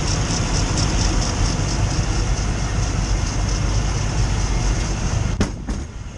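The engine of a Luhrs 28 boat, after its timing was adjusted, runs with a loud, steady rumbling drone and a faint rhythmic pulse. A brief clatter comes near the end.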